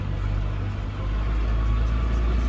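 A front loader tractor driving along, a steady low engine drone that stays loud and close throughout with a slight dip in level partway, no talk.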